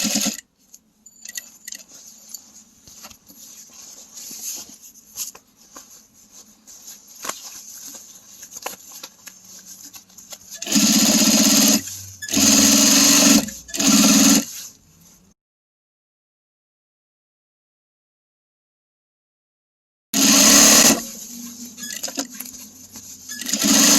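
A sewing machine stitches a bag in several short, loud bursts of rapid mechanical chatter, separated by quieter stretches of slow hand-wheel walking over a zip and a few seconds of near silence.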